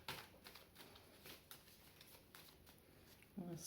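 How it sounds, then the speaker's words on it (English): A deck of tarot cards is shuffled close by, very quietly, with soft riffling patters and light taps over a hushed background. "I'm going to actually shuffle and draw out the cards"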